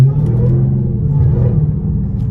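A Dodge Hellcat with a supercharger rumbles close by, a deep, steady low-pitched engine drone with slight fluctuations and no talk over it.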